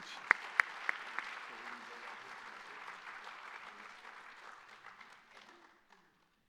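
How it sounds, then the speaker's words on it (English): Banquet audience applauding Bill and Sandy Leach at a distinguished alumni hall of fame event, a few sharp claps up front before steady, fairly distant applause that thins and fades out toward the end. "Let's give them a big round of applause, Bill and Sandy Leach"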